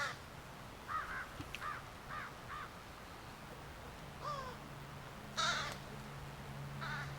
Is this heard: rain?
no